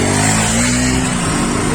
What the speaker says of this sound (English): A twist of the wrist is all it takes for it to deliver some amazing acceleration.